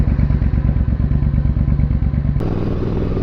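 A rebuilt Triumph Bobber motorcycle engine runs loud and close with a rapid, rhythmic thumping beat, then the tone shifts abruptly into a smoother, steadier roar.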